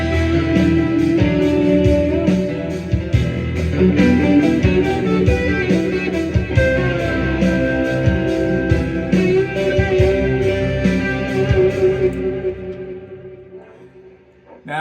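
An improvised electric guitar solo with distortion rings out in a dense, sustained run of notes. It plays continuously and alone at a strong level, then fades away over the final few seconds.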